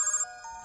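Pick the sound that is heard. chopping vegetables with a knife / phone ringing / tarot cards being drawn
phone ringing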